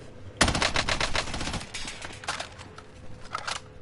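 Rapid bursts of automatic gunfire crackle loudly, then trail off into scattered, more distant shots with a synthetic game-like sheen.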